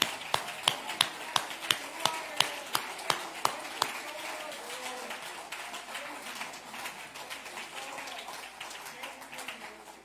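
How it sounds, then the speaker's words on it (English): Hands clap in a church congregation at a Sunday morning service, sharp rhythmic claps at first that blur into a steady, dense patter with voices mixed underneath. "Come on, clap your hands, all ye people."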